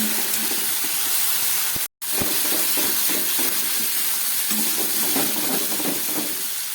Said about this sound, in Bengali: একটু ভেজে নিই মশলাটা।